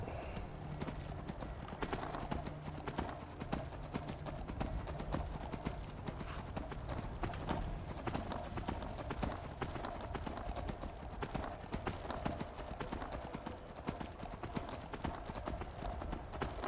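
Horse hooves clip-clopping in a role-playing video game as a mounted character travels along a path, a steady quick rhythm of hoof strikes filling the whole stretch, fairly close and unbroken.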